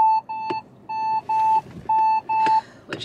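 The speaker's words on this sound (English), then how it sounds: "It's gonna do that and keep beeping," Repeated car parking sensor beeps from inside a vehicle, loud and close, in a steady series of short and longer electronic tones with brief gaps between them.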